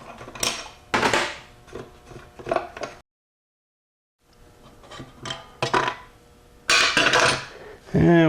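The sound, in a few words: taking the piston out of a Powerglide transmission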